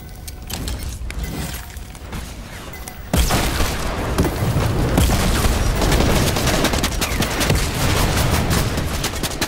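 Rocket explosions in the video game Fortnite, a dense run of heavy booms and gunfire-like blasts that grows louder and more continuous after a sharp jump partway through, loud and close throughout.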